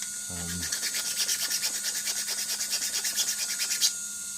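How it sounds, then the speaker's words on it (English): Rough sandpaper rasps steadily across a custom 3D-printed SpaceX Starship model part in quick, even back-and-forth strokes, close and fairly loud, with a brief low voice-like hum near the start. "Using some of the roughest sandpaper I've got."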